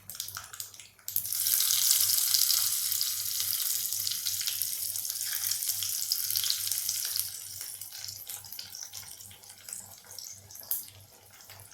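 Garlic fries in oil for a tempering, heard as a bright, steady hiss that swells suddenly after a second and then gradually eases, close and fairly quiet with no talk.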